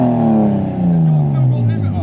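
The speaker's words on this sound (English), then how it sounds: "I've just seen a white Chaser arrive." A white Toyota Chaser rolls into a car park meet, its engine note sliding steadily downward as it slows and passes close by, with voices chatting over it throughout.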